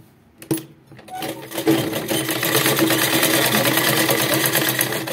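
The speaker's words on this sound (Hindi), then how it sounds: "मैं आ चुकी हूँ मशीन पे और अभी मैं आपको इसकी सिलाई करके बताती हूँ" Sewing machine stitching a Patiala salwar, starting with a few clicks and then running in a steady, fast, close rattling hum that continues to the end.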